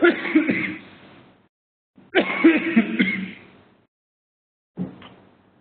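A man clears his throat and coughs in three separate bouts, two fuller rasping ones followed by a shorter one after a pause, close and alone with no talk.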